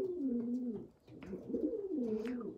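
Rescued street pigeon with an injured leg cooing close up, two drawn-out throaty coos separated by a short pause, alone with no talk.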